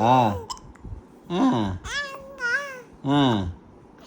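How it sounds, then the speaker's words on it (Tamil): Baby hiccuping amid soft babbling, a few short vocal bursts spaced across the clip, close and fairly loud with no adult talk. "விக்கல் வருதா?"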